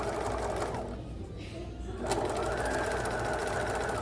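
A sewing machine stitches fabric for a continuous lap seam, its fast needle rattle running steadily and loud up close, easing briefly midway before resuming at full speed.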